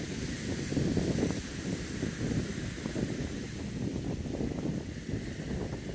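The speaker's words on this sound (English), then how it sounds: "I guess just because the wind has picked up here." Steady wind gusts across an open beach in Vietnam where windsurfers are out, producing a continuous low rumbling buffet with no voices heard.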